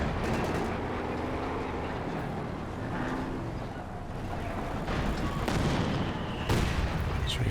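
A heavy mortar lands in a strategy game match, dense rumbling battle noise of gunfire and artillery throughout with a sharper loud impact near the end.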